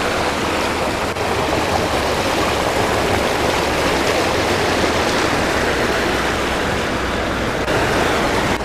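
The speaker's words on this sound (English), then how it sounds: "I love the sound of runoff or streams," Steady rushing runoff from a stream near a waterfall at Mossy Cave in Bryce Canyon, a dense, continuous broadband wash of flowing water, close and loud throughout with no voices.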